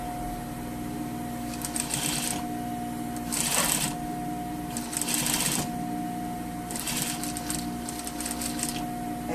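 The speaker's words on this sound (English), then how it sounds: "So right next to the overlock, it's gonna grade your seam." An overlock sewing machine stitches a seam in rapid buzzing bursts, running in several separate stretches with short pauses between, over a steady electrical hum.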